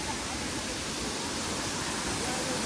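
Krang Suri waterfall in Meghalaya, a constant dense rush of falling water that fills the whole clip evenly, steady and unbroken, without audible talk.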